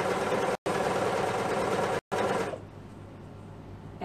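A sewing machine runs steadily while stitching the side seam of girls' leggings with a 3/8-inch allowance, a dense continuous whir that stops briefly twice before fading into quieter room sound.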